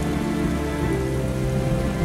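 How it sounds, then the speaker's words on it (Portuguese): Steady rain falls on a coffee plantation, a dense continuous patter on surfaces with no voices, loud and even throughout. "Vem a chuva."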